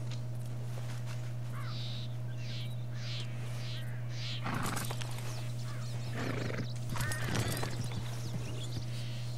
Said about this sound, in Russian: Слышите, всадник?